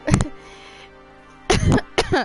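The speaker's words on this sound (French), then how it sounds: "je tousse encore" Two or three short, harsh coughs from one person close by, with a brief pause between bursts, in a quiet room and with no talking.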